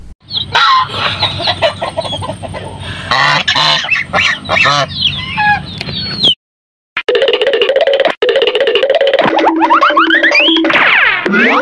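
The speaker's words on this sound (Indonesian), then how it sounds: "angsa" A goose honks and other farmyard fowl sound off, loud and close, in a dense run of calls that breaks off briefly and then resumes.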